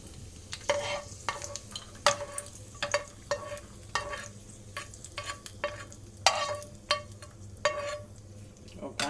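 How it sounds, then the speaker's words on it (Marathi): Cashews and raisins stirred and roasted in a pan for sabudana kheer, giving repeated scraping stir strokes in an uneven rhythm over a soft continuous sizzle, close and moderately loud, with no talking. "ओका असे भाजायचे लालसर."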